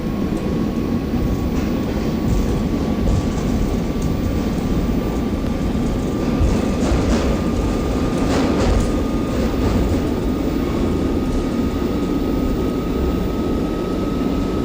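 An R62A subway train runs in the OpenBVE simulator, a steady loud rumble of wheels and motor with a sustained whine, rising into a brief burst of rattling clatter midway.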